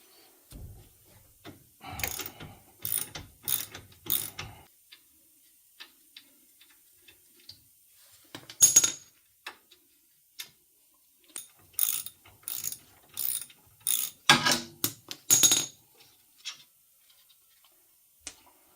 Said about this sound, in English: For the caliper bolts, you need a 15 millimeter. So we got that one loose. Now we'll loosen the other one down below.